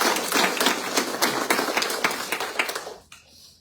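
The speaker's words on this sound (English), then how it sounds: "If we give them one more round of applause." An audience claps for about three seconds in a school building setting, a dense patter of many hands that thins out and stops near the end, leaving quiet room tone.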